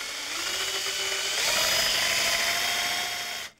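A power drill drilling through wood boards whines steadily at close range, its pitch shifting slightly as it bites in, then cutting off abruptly.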